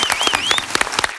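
A studio audience at a dance reality show bursts into brisk, loud applause on cue, with many hands clapping in a short, close burst.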